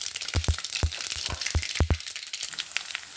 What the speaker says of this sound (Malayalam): ചട്ടി ചൂടായി, നമ്മൾ വെളിച്ചെണ്ണ ഒഴിച്ചിട്ടുണ്ട്. കുറച്ച് കടുക് ഇടാം.